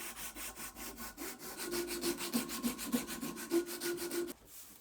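Sandpaper is rubbed back and forth over a wooden chisel handle to smooth it, producing a steady, rhythmic scratchy rasp of repeated strokes that stops abruptly near the end.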